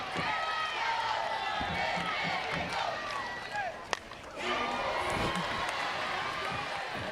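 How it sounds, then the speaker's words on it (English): A packed softball stadium crowd roars and cheers steadily at a Women's College World Series finals game between Oklahoma and Florida State, a dense sustained wash of voices with a brief dip midway before swelling again. "Loudest this crowd has been the entire series."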